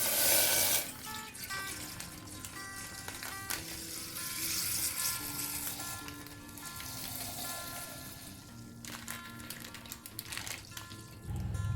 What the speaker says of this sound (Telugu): ఇంకో బగోన్లో ఒక 1/2 లీటర్ పాలు పోసుకోవాలి